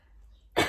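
A single sharp cough from an adult with pneumonia bursts out suddenly after a quiet moment, close and loud, alone without talk.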